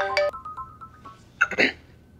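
A phone ringtone in a Hindi TV serial household scene: a short melodic tone sequence with a steady sustained note, followed by a brief louder burst of bright sounds, fairly quiet overall with no speech.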